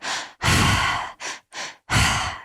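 Breathwork exercise using a three-part breath that fills the belly, then the chest, and releases out through the mouth: loud, close, forceful breaths in long and short bursts with brief pauses, no talking.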